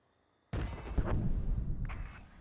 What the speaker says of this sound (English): I'm hearing explosions. What's blowing up?